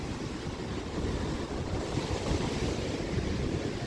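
Waves 8 to 12 feet high surge at the end of Jennette's Pier in Nags Head, North Carolina, a steady, loud wash of surf with wind buffeting the microphone and no talking.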